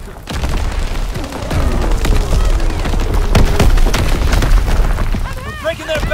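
Artillery barrage in Call of Duty: WWII, loud booming blasts and crackling impacts rolling together, with a radio-style voice speaking over the gunfire.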